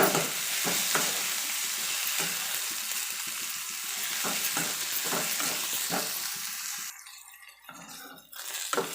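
Curry leaves, ginger and about six garlic cloves sauté in oil in a pan for a roadside-style thanni chutney, a loud continuous sizzle broken by repeated scraping stirs, quieting near the end with a couple of clinks.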